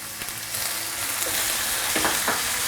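Beef mince sizzles steadily in a hot wok with Sichuan pepper oil, a dense close-up crackle broken by a few brief stirring clanks toward the end, without speech.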